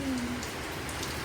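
Rain falling steadily as a soft, broadband hiss over a construction site in chilly weather, with faint patters of drops and no voices.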